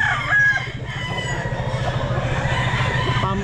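Chickens and roosters at a pet market cluck and crow close by, a loud rooster call opening over a steady, rhythmic clucking and fowl chatter that continues to the end.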